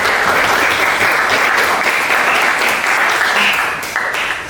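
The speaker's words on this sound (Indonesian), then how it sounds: "Kita tepuk tangan dulu." A school classroom applauds students' answers during a programming lesson: continuous, lively clapping from many hands, fairly loud and even, tapering slightly at the end, with no talk.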